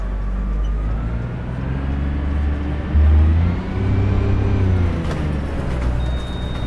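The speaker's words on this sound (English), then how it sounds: "we're going to have to just wait for a couple of cars to go by" Road traffic in the OMSI 2 bus simulator game, with cars passing while the bus waits at a green light over a steady engine rumble, one louder whoosh going by in the middle.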